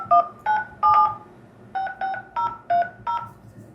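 Telephone keypad tones beep as digits of a date of birth are keyed in, eight short distinct presses in an uneven rhythm, moderately loud and close, with no talk.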